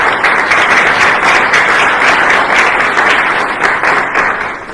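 Loud, close applause from an audience at a literary salon in Vietri sul Mare greeting Professor Francesco Buzzo, steady rapid clapping that thins slightly toward the end.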